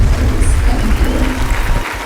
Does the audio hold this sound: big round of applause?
yes